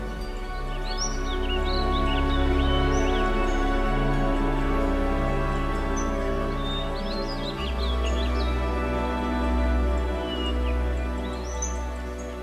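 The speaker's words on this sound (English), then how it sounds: "all of a sudden you hear birds sing" Birds sing and chirp in scattered short calls across a botanical garden in Flushing, Queens, heard faintly over a steady low rumble of background noise, with no voices.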